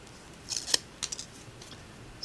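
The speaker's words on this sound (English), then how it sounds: "I am literally cutting it off to the length of the paper" Quiet snips of scissors cutting paper for a handmade birthday card for a one-year-old, a few short crisp cuts spaced apart, close and soft, with no talking.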